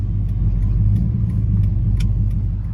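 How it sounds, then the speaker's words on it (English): A Cadillac with a 4L60 transmission drones along in a low, steady engine rumble that stays loud and unbroken, while the gearbox struggles and refuses to shift up; no one speaks. "I was gonna say Cadillac refuses to shift gears"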